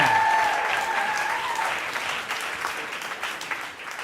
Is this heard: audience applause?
yes